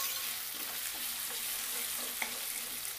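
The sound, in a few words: ginger garlic paste frying in oil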